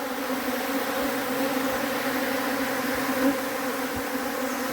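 Swarm of bees crowding into a covered feeder to lick up nectar, a dense, steady buzzing hum close by that holds throughout without pause.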